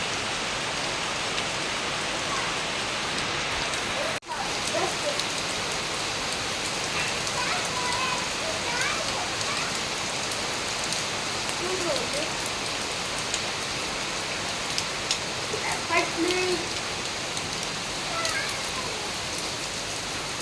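Monsoon rain falls steadily outside a home, a dense, even hiss of drops that holds unchanged throughout, with faint voices now and then beneath it.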